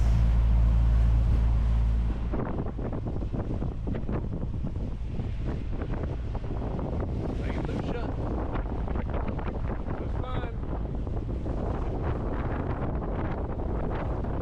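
A sailboat under way in strong wind off the point of St. Lucia in the Caribbean, with steady loud wind buffeting the microphone and rushing water throughout, and people talking over it.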